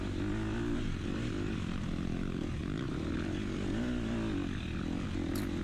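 A Yamaha YZ250F dirt bike engine drones steadily on a slippery, root-covered wooded trail during a race, a loud continuous motor hum with slight pitch wavering throughout.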